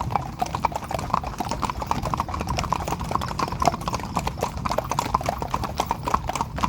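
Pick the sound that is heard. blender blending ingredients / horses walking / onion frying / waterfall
horses walking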